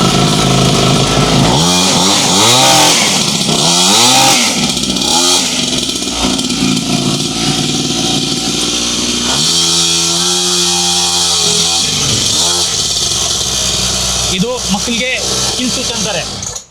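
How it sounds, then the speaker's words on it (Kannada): A kids' key-start petrol bike engine runs loudly close by, sputtering and revving up and down in rising and falling whines, with a steady idle between. "ಕೀಯಿಂದಾನೆ ಗಾಡಿ ಸ್ಟಾರ್ಟ್ ಆಗುತ್ತೆ"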